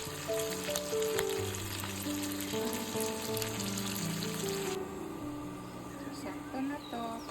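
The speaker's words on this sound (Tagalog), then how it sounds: "Pinapa-brown natin yung pork." Pork browning in a pan with tomato and ginger for pinakbet gives a continuous close sizzle and crackle, while indistinct talk and background sound run underneath.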